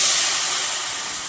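Tomatoes dropped into a hot pan of oil already seasoned with cumin and turmeric for a drumstick, onion and greens dish, giving a loud, bright, steady hiss of sizzling that tapers slightly.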